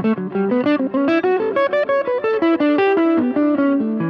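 An electric guitar through an E.W.S. Brute Drive distortion pedal plays a quick run of single notes, each sharply picked, with a gritty, saturated tone and no voices.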